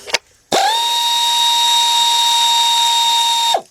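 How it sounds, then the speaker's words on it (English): A pneumatic 3/8-drive air ratchet fitted with a 10mm deep socket spins out a bolt on the 3.7 engine of a 2003 Jeep Liberty Sport, giving one loud, steady whine for about three seconds that starts and stops sharply, with no talk. "you grab a 10mm deep 3/8 drive socket with my ratchet, air ratchet"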